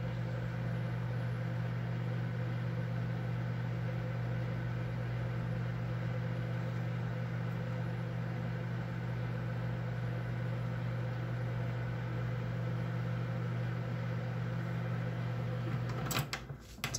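A steady low hum of a microwave oven running, constant and unchanging, ending with a couple of brief clicks near the end.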